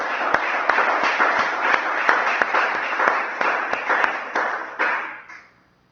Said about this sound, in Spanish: Le damos un aplauso al Espíritu de Dios en esta mañana